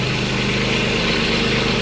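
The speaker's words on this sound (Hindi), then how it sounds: "बिल्कुल अच्छे से वर्क कर रहा है ट्रैक्टर, चेक हो गया ट्रैक्टर।" A Kubota tractor engine idles steadily nearby, a low, even diesel throb with a constant rhythmic pulse and no change in speed over the short stretch, with no talk.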